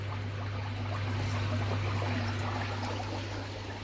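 A steady stream of water pours from a Bakki Shower pond filter onto grass, a continuous close trickling rush over a constant low hum of an air pump.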